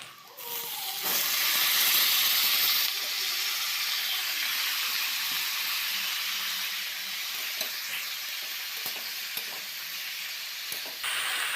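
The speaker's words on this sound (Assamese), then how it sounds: "এতিয়া এইখিনি পিঁয়াজখিনি হালধি নিমখ দি ভাজি ল'লোঁ" Sliced onions sizzle steadily in hot oil with turmeric and salt, a loud continuous hiss with faint occasional clinks of stirring, no voices.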